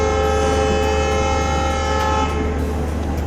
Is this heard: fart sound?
no